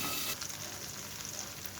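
Tengra fish fry in hot oil in a covered pan, a continuous dense sizzle that is loud at first and then settles to a steady, slightly softer crackle, with no one speaking.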